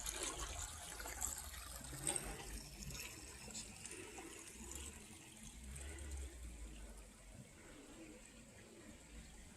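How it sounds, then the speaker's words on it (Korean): Water flows beneath a footbridge at a museum in spring, a soft continuous rushing and trickling heard at low level with faint outdoor ambience and no talk. "물소리 들리시죠?"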